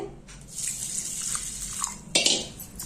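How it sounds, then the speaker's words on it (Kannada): Flattened rice (avalakki) is rinsed in water, with a splashing, swishing stream that runs for a couple of seconds, pauses, then surges again briefly, close and moderately loud. "ಈಗ ಅವಲಕ್ಕಿನೂ ತೊಳಿತಾ ಇದ್ದೀನಿ."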